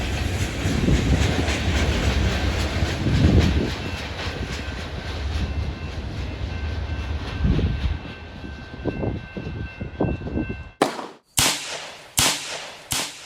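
A model railroad locomotive runs on the rails with a steady, loud rolling rumble and clatter. It stops abruptly near the end, and a few sharp separate bangs follow.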